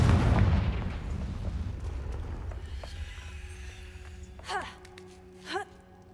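Confringo fire spell from Hogwarts Legacy exploding as a loud low rumbling blast that fades over several seconds, followed by two sharper swooping magical bursts near the end.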